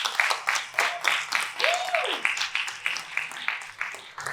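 An audience at a conference claps for the organizers, a steady run of dense hand claps filling the room, with a voice speaking briefly over it partway through.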